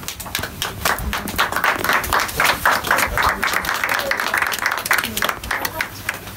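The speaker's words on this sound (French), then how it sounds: "on applaudit pour le réalisateur qui vient ici." An audience at the first edition of a film festival claps for a film director arriving on stage, a steady, dense patter of many hands that holds at even loudness throughout, with no voices clearly over it.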